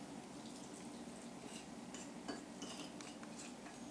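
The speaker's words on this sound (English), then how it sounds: "I'm going to pour this hot water over this and mix it all up together." Hot water poured over a low-carb corn chip mixture and stirred with a fork, giving faint clinking and light scraping against a dish with soft splashy liquid sounds throughout, quiet and close.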